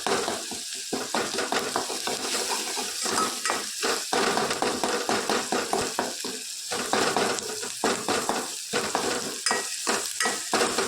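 A spoon stirs cumin, dried and green chillies, asafoetida, turmeric and garam masala frying in hot oil in a pan, a steady sizzle broken by rhythmic scraping strokes, close and fairly loud with no talk.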